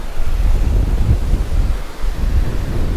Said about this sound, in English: The water's still rough though. I was expecting it to be calmer over here. There's a little bit of a wind.